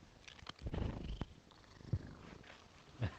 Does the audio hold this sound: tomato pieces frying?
no